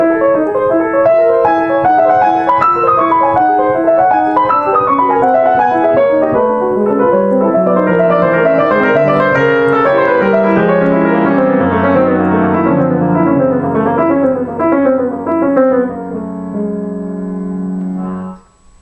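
Solo piano plays two interleaved motifs from Montsalvatge's Sonatine pour Yvette, a bright right-hand line against a more unsettling chromatic left-hand figure, moving in busy runs that settle into lower sustained chords near the end.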